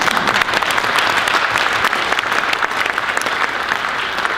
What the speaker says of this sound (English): It's a good time to applaud.